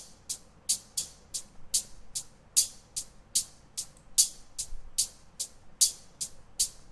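A hi-hat drum track with EQ applied plays a steady, evenly spaced run of sharp, airy strikes with a clean, crisp top end, roughly three hits per second; no talking.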